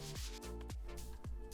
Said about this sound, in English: I grabbed my random orbital sander